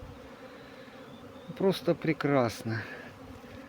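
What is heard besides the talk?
honeybees buzzing at an apiary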